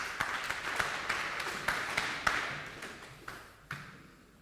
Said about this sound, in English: Give him a clap, at least